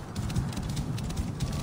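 Horse hooves clip-clop steadily in the game Assassin's Creed Origins, a continuous rhythmic trot at moderate level with no talking over it.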